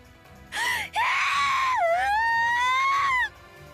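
A character in the Umineko visual novel screams, a loud close voiced wail that breaks briefly and then holds a long wavering shriek before stopping.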